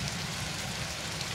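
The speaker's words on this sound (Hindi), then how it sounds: "बहुत ज़्यादा बारिश हुई है, जो तो कि अभी तक जारी है" Heavy, continuous rain falling during a prolonged downpour, a steady soft hiss of drops on surfaces, fairly faint and even, with no talking.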